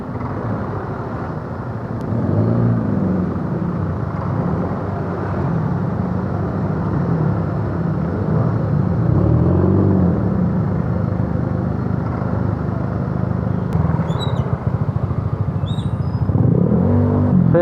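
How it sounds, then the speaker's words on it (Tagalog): Steady drone of dense traffic on Quirino Highway, with idling and creeping engines, low rumble and passing vehicles close by, heard continuously with no talk. "So grabe pa rin yung traffic dito sa Quirino Highway oh."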